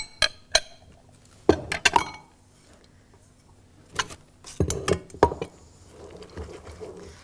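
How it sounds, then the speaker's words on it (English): A spoon stirs Christmas cake mixture in a bowl in a 1978 farmhouse kitchen, knocking against the sides in a few sharp, scattered clinks and clatters with quiet gaps between them. "Give a good stir so that everything's well mixed in"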